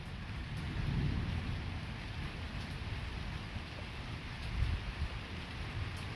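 A strong nighttime electrical thunderstorm, with steady rain and low rumbling thunder swelling and fading in the background at a moderate distance, and no talking.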